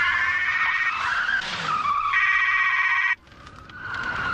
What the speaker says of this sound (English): I'm in the middle of a car chase at the moment